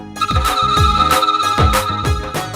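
A phone ringtone plays a repeating melodic chime pattern in several bursts, loud and close, with no voices.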